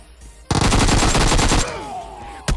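A rapid, loud burst of Uzi fire in PUBG Mobile lasts about a second, then fades into a ringing tail, with one more sharp shot at the end.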